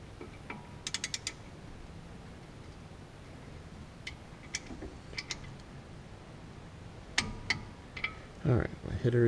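Torque wrench clicking as clutch pressure plate bolts on a Nissan S14 are tightened to 25 foot-pounds, giving short ratcheting clicks in small clusters over a quiet garage background, with a brief voice near the end.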